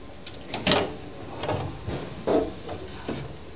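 Aluminum alloy ceiling access panel opened by hand, giving a series of short clacks and knocks, one sharper bang near the start and softer bumps after, close and moderately loud with no talk.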